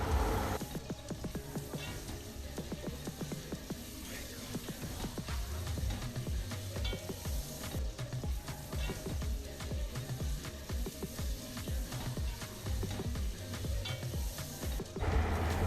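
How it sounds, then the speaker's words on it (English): Chopped onions frying in hot oil with a soft, low sizzle, while a utensil stirs them in quick, repeated scraping strokes against the pan. "heat up your oil, add in your chopped onions and give it a good stir till your onions begins to"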